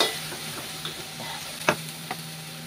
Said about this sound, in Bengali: মশলাটাকে বেশ খানিকক্ষণ ধরে এটাকে কষাবো